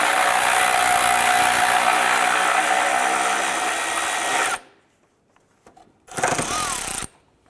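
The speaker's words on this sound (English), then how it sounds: "I'm going to remove this 10mm bolt." A power tool, likely an impact driver or drill, removes a 10mm bolt on the strut tower of a 2001-2005 Honda Civic: a loud, close whirring buzz for about four seconds, a pause, then a second shorter burst.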